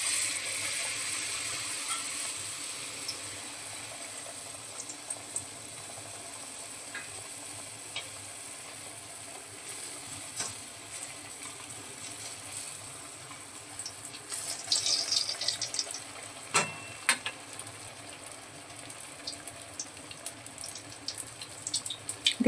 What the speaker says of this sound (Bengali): এবারে একটু ব্যাটার তেলে দিয়ে দেখে নেব যে মালপোয়াগুলো ঠিকঠাকভাবে হচ্ছে কিনা।